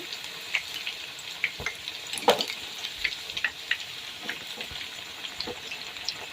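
Phunke, steamed Khandeshi dumplings made with wild greens, deep-fry to a medium crisp in hot oil, giving a steady bubbling sizzle scattered with small pops and clinks of a utensil, close and moderately loud, with no talking.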